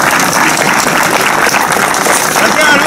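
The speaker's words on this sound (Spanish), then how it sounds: "Un aplauso porque lo ha hecho genial." Spectators at a medieval festival sword-and-buckler demonstration in Villena applauding, a loud dense burst of clapping with voices mixed in.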